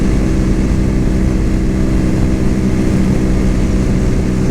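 A Cougar Vitacci XMT 250 motorcycle engine runs smoothly and evenly at steady speed on a test ride, a loud, close, low drone mixed with wind noise and no talking.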